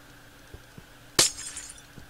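Glass block placed in the Minecraft video game: a single bright shattering clink stands out above faint clicks, brief and close with no talking.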